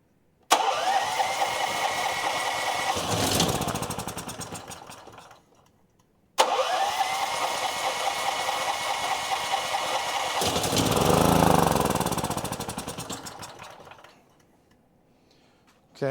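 A small engine running only on brake cleaner fires up twice, each time roaring steadily for several seconds, surging louder before it sputters and dies into silence, then catches again right at the end.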